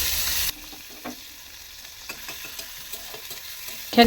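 Garlic and five-spice seeds frying in oil in a pan on a gas stove, with a loud sizzling burst at first that settles into a quieter, steady crackle with scattered pops and clicks.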